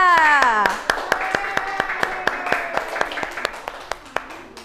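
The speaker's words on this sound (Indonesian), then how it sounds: "Ayo kita beri tepuk tangan untuk siapa? Mbak Chelsea dan Mbak Faiha." A classroom claps for two student presenters. Brisk, even applause builds into a run of sharp, regular claps that slowly fade, and a voice speaks briefly at the start.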